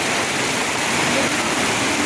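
Heavy rain pours down in a dense, steady roar without a break, loud and close, with no clear talk over it.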